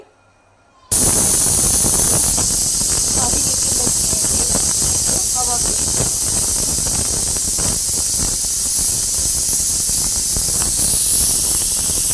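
Loud, steady hiss of steam escaping a pressure cooker whistle while cooking goat head curry, starting abruptly and continuing without a break for about eleven seconds.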